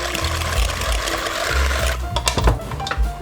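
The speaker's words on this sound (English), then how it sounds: "we're gonna just take our mixer" Electric hand mixer whirring through eggs for a Southern pecan pie, a steady motor drone with shifting pitch as the beaters churn, clattering louder and more uneven in the second half.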